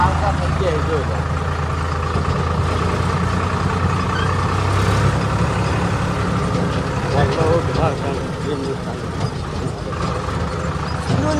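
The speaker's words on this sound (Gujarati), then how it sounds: "ટ્રેક્ટર આવી ગયું આપણે આવતા થઈ ગયા જોઈ લો." A tractor engine runs steadily in the background, a low rumbling idle mixed with outdoor noise, while people talk over it throughout.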